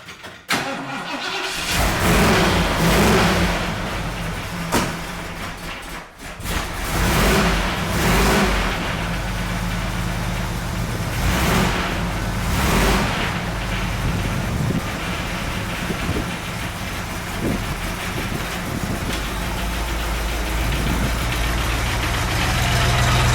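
A 1973 Ford Highboy truck engine cranks and catches in a garage, then settles into a steady, loud, rumbling idle that runs on with no talk.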